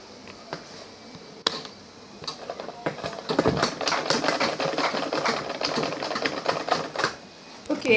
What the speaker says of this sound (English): we're going to sew the two sides of the front and back pieces